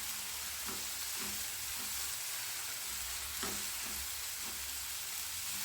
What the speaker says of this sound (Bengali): যতক্ষণ না মশলা থেকে ভালোভাবে তেল ছাড়ছে ততক্ষণ পর্যন্ত কষাতে থাকবো